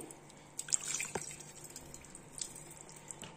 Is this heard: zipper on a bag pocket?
no